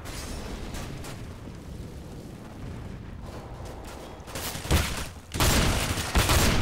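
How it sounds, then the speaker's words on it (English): Flashbang and molotov fire thrown in Counter-Strike: Global Offensive: a sharp flashbang bang followed by a loud, rushing burst of flame, close and dominant, with no talking. "I'm throwing the flashbang. I'm throwing fire."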